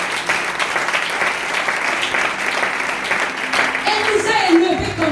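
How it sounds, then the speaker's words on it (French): A church congregation claps and cheers loudly and continuously, a dense wash of applause filling the room with voices rising within it. "Est-ce qu'on peut acclamer le Seigneur pour maman Suzanne?"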